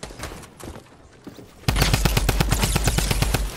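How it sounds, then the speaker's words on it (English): Rapid automatic gunfire from a shooter video game erupts after a quieter stretch of faint shots, a loud, steady rattle of close-range bursts that fills the rest of the moment. "They were shooting at you."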